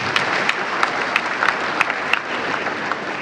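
An audience at a university lecture on cultism in Nigeria claps for the lecturer: a sustained wash of applause with a few distinct sharp claps, steady and fairly close, with no speech.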